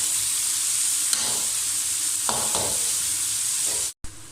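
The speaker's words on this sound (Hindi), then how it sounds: "प्याज बस आपने हल्के 1 मिनट के लिए इसमें ऑयल में फ्राई करने हैं" Onions fry in oil in a pan with a constant close sizzle, broken by a few quick stirring scrapes, no speech.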